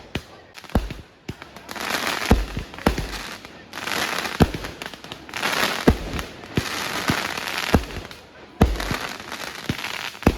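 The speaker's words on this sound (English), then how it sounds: "complete with fireworks on the shore" Fireworks explode at a 4th of July celebration on the shore, with sharp booms and bangs repeating irregularly and crackling showers between them, fairly close and loud.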